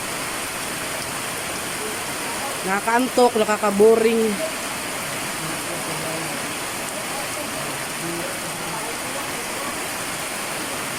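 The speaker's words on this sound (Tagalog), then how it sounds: "Grabe yung ulan, no?" Steady heavy rain pours throughout on a farm as a dense, even hiss, with a person speaking briefly in Tagalog near the start over the downpour.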